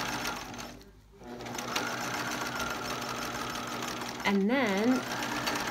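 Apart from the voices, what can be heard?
sewing machine zigzag stitching coiled rope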